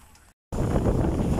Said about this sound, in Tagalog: Naglalakas ng hangin dito sa amin mga kapits.